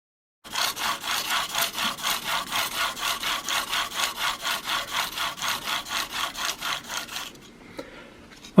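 A single-bevel Iron Will plane iron in a 32-degree sharpening guide is pushed back and forth across grit sharpening stones. About two dozen even, rhythmic rasping strokes sound up close, then stop abruptly.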